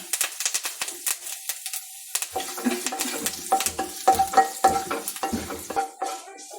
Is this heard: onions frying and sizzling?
yes